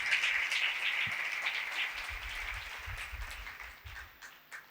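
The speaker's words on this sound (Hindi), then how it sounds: "खुदा के जलाल के लिए जोरदार तालियां दीजिए" A church congregation applauds steadily, dense clapping that gradually thins out toward the end.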